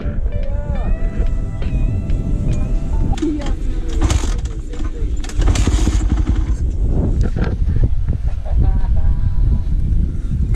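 A dirt bike engine turns over and catches at an evening campsite, rumbling loudly and steadily with rising revs while people talk nearby.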